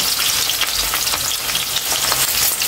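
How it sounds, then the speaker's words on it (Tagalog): Onions frying in hot cooking oil for Filipino bistek tagalog, a dense, loud, close hiss and crackle of sizzling that continues steadily without any talking. "ipa-fried muna natin yung sibuyas natin"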